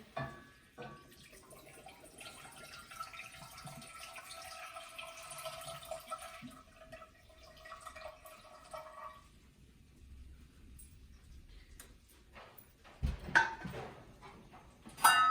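Chicken broth pours steadily into a pot of bubbling ramen noodle soup on the stove. A soft, continuous liquid stream runs for several seconds, then gives way to faint kitchen clatter, with no talking.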